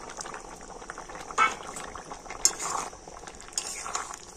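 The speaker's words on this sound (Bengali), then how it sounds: "তো মাছের ডিমটা দিয়ে আবারও কিন্তু আমি একটুখানি ফুটিয়ে নেব" A curry of potatoes and fish roe simmering in a covered pot, giving a soft bubbling burble with a few sharp clinks of metal utensils against the pot.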